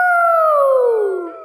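A cartoon character howls at the full moon, a voice imitating a wolf: one loud, close, sustained howl that slides gradually downward in pitch and fades at the end.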